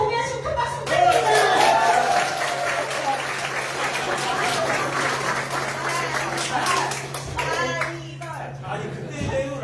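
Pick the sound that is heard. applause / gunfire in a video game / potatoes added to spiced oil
applause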